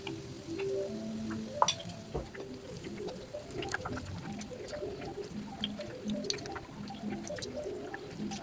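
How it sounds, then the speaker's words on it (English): Batter-coated vegan kikiam (ngoh hiang) roll pieces fry in hot oil over medium heat, giving a steady, fairly quiet sizzle with occasional clinks and stirring noises close by. "the process of frying the batter fried pieces"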